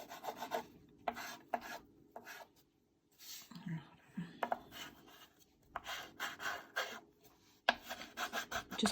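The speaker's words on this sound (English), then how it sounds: "rub it back and forth like I'm doing" Chalk pastel rubbed on its side back and forth across paper, giving repeated dry raspy strokes in uneven bursts with short pauses, close and fairly quiet.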